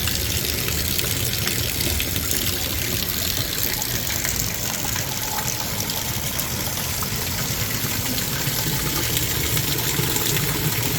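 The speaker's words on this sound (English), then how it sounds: "This was the waterfall I was just standing over" Waterfall on the Reno Riverwalk in downtown Reno, Nevada, pouring in a steady, dense rush of water that stays loud and even throughout, close by, with no voices.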